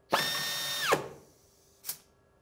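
An Atlas Copco clutch tool running down a fastener to set torque: a single high whirring spin of nearly a second that cuts off sharply, then a short click-burst moments later, close and alone.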